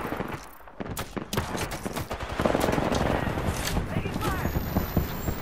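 Rapid gunfire bursts in a fast-paced team shooter match, sharp repeated shots and fusillades close up with game sounds, and a player's voice talking over parts of it.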